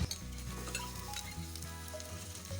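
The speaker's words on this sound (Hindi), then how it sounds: "और इसे फ्राई करेंगे 2 मिनट तक" Steady sizzling of potatoes frying in a pan with garlic, with occasional stirring scrapes, close and continuous with no talking.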